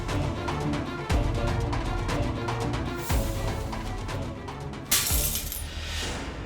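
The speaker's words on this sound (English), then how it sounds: "how did Dipto's picture come crashing down" A framed picture crashes down and its glass shatters in loud bursts of breaking and tinkling shards, several impacts over a busy dramatic background.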